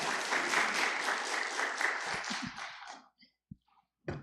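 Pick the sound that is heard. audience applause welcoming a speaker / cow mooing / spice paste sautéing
audience applause welcoming a speaker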